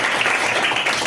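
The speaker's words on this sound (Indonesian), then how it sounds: "Tepuk tangan luar biasa ya." A classroom group claps together during a school lesson, a brief, bright burst of many hands at fairly close range, steady and loud, with no talk over it.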